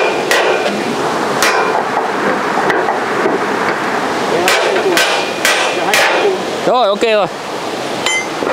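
Hammer blows ring out repeatedly on a bridge construction site during girder launching, sharp metallic strikes at irregular intervals over steady site noise, with a brief spoken remark near the end.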